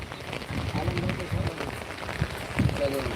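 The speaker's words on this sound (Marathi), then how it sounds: "पाऊस चालू आहे जोरात" Heavy rain pouring steadily in a constant wash of hiss and patter, with someone talking over it.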